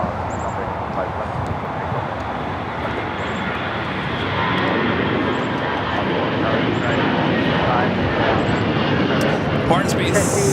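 A Boeing 767-300ER jet takes off from runway 25 left at LAX, its engine roar steady and then swelling louder partway through, with faint voices underneath.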